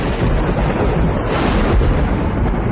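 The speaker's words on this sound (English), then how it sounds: "bringing torrential rain, violent thunderstorms" Violent thunderstorm with torrential rain and sudden wind shifts over the sea, heard as a continuous loud low rumble and roar with no clear separate claps, steady throughout.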